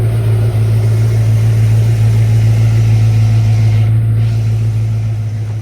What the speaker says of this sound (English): take it on idle here, and let's give it a couple revs